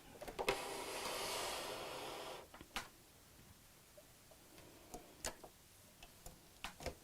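A sewing machine stitching a channel on a fat quarter tote bag, with a brief whirring burst of stitching early on, followed by scattered quiet ticks and clicks, fairly faint and without talk.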